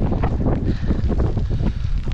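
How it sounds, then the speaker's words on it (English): Strong wind buffets the microphone on a rainy mountain trail up Akanagisan, a continuous loud rumbling roar with gusting surges throughout and no talking. "We're gonna feel some wind"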